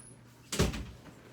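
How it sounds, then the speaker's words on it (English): A single door shuts with a firm thud, short and fairly close, followed by quiet room tone. "I have to close my door"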